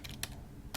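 Computer keyboard keys clatter in three quick, faint, close taps during coding of a Minecraft mod, with no voices.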